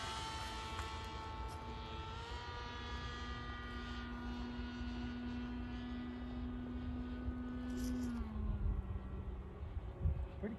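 An 83-inch Legend Hobby RQ-7 Shadow radio-control model airplane drones overhead in flight, its propeller engine holding a steady tone that dips in pitch near the end as it passes and draws away.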